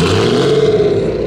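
A BMW M4 GT8 hypercar on a runway at a supercar festival gives a loud, brief rev close by, its engine note climbing and holding.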